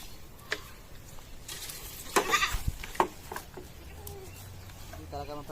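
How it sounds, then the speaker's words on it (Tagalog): A goat bleats a few times in a free-range yard, close by and moderately loud, over background outdoor noise and a faint voice. "Hindi talaga mapahirapan pakain sa kambing."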